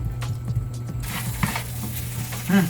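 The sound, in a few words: stirring sugar into nasi goreng in a pan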